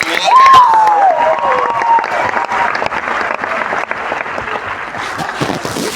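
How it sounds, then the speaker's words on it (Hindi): A large audience at a motivational talk breaks into dense, loud applause that fills the room, with a brief whistle at the start and clapping gradually thinning toward the end. "तो एक बार जोरदार तालियां अपने लिए बजा दो"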